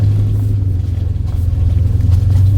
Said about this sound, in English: In the background you may hear the V8 from Dave's vehicle, adding a nice ambiance to the mood